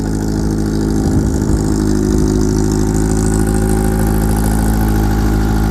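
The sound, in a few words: engine of a small modified Nissan March autocross car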